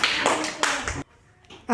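Second-grade classroom children clap in a short burst of close, overlapping claps that cuts off abruptly, followed by a brief quiet gap before a voice starts.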